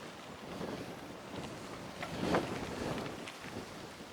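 Wind buffets the microphone in a steady rushing roar, with a stronger gust swelling briefly midway.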